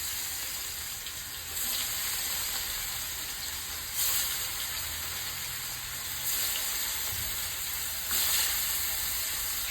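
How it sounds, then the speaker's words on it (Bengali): Pieces of silver carp rubbed with salt and turmeric fry in oil in a black iron pan, a steady close hiss with a few brief louder swells, no talking. "প্যানে তেল দিয়ে মাছগুলো ছেড়ে দিলাম।"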